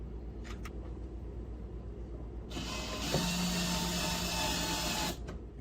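Screw being driven to secure a leg mount on a model railroad Free-moN module, a close mechanical whirring buzz that starts midway, runs steadily for about two and a half seconds, then stops, over low room noise.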